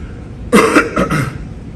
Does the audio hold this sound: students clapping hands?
no